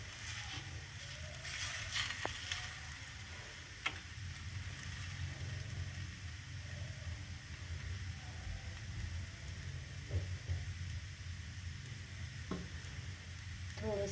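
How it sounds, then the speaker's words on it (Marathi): Sabudana paratha roasts on a hot tawa with a soft, continuous sizzle and low hum, faint and even, with a few light taps and scrapes scattered through. "त्यावर आता आपला पराठा आपण शेकूया छान"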